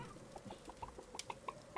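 Chicken clucking in the video game Witch It, a rapid run of short clucks at moderate level over a faint game background, no talk.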